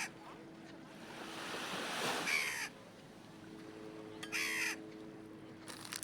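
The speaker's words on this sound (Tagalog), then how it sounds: "yan ang mga uwak, nag-aabang ng pagkain" Crows caw in a few harsh bursts against a steady wash of surf and wind at a beach, the calls fairly loud and spaced apart.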